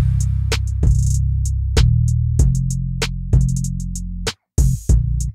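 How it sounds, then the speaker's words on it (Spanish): Trap-style percussion from a song blending trap with bolero: punchy kicks over a sustained deep bass, with crisp hi-hat and snare or snap hits in a steady rhythmic pattern. "Y así suena la percusión."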